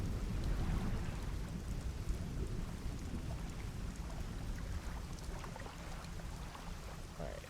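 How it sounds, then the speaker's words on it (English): Steady rain falls in the fishing video game Dredge, a dense broadband hiss with low rumbling that could be distant thunder, continuous and fairly loud across the whole stretch with no voices. "It's raining now."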